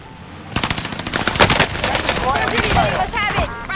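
Machine-gun fire in Warzone Pacific, loud rapid bursts of shots close up, continuing with scattered shots and game sounds toward the end, and a voice briefly heard underneath.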